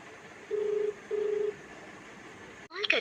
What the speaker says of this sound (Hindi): कॉल कर रही है वह उत्तर नहीं दे रही।